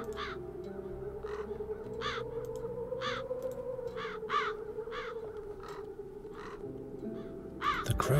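Crows caw repeatedly in a town in the video game Chains of Satinav, sharp rasping calls arriving in a loose, irregular rhythm over a steady low drone.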